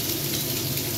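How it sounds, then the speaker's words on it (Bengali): Pabda fish frying in mustard oil in a home kitchen: a dense, steady crackling sizzle throughout, close and fairly loud, with no voices. "মাছগুলো ভাজা হচ্ছে"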